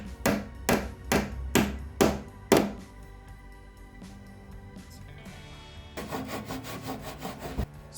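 Wood is hand-sawn to trim it to pegboard size, with rhythmic rasping strokes in bursts, a pause with light knocks, then a quicker run of close sawing strokes.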